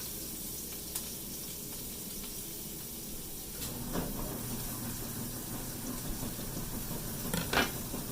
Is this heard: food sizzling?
yes